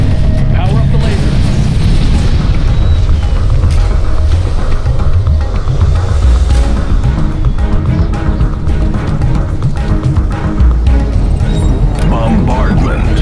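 Explosions and booms fill a Command and Conquer Generals Zero Hour battle, loud and dense throughout with cracks and rumbling blasts, while unit voice lines are heard over the din.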